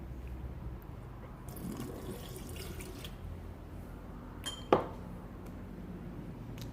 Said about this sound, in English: we must throw out the waste in a sink, because it is a solution